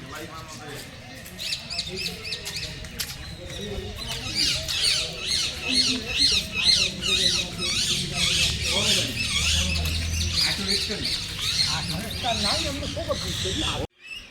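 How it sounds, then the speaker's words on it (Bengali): Many parrots squawk and chatter in the enclosure behind the Cooch Behar palace, a dense, continuous chorus of harsh calls close by, with a low background rumble. "এই যে চিড়িয়াখানার মতো আছে আর অনেক টিয়া পাখি এখানে"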